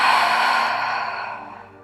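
A single long, breathy exhale during a calm breathing exercise, close and soft, fading steadily over about two seconds.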